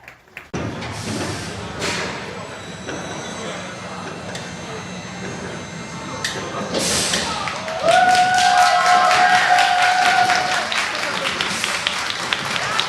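Applause at an official ribbon-cutting opening, scattered clapping and thumps early that build into denser, louder clapping in the second half, with a voice and tonal sounds mixed in.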